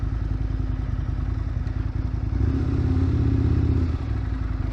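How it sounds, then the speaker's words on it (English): Aprilia RSV 1000 motorcycle rolling over gravel, its mid-pitched V-twin engine running steadily with a rising rev near the end, close and loud, with crunching clatter from the loose surface. "have I got to do gravel with your lovely shiny bike?"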